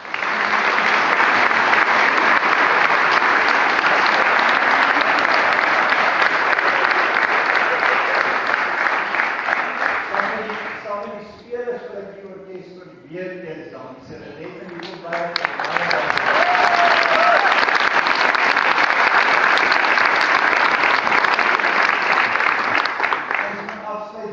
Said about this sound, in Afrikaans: Kan ons ook vir hulle hande klap.